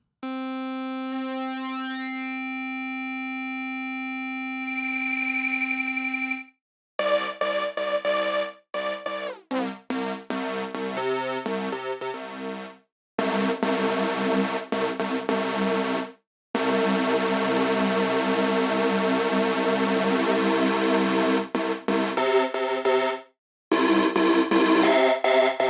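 A dirty synth bass patch built in Logic Pro X, with phase, sync and number dials pushed to fatten it, heard as a series of sustained buzzy tones and short chopped phrases separated by brief silences.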